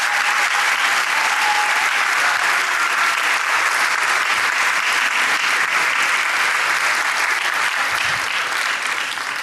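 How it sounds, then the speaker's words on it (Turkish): Sustained applause from a studio audience for a singer on a Turkish music TV show, a dense, steady wash of clapping at full level throughout with no break. "Alkışlarınızla Seray!"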